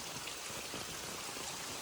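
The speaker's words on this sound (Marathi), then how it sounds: "अरे पाऊस जोरात पडताय" Heavy rain pours down in the Konkan countryside, a steady, dense patter with no let-up.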